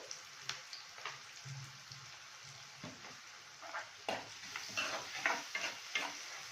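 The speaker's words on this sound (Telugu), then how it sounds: "బ్రౌన్ అయ్యే వరకు ఫ్రై చేస్తాము." Onions frying in a pan with salt added, a steady soft sizzle and crackle with scattered pops that grow livelier toward the end, no talking.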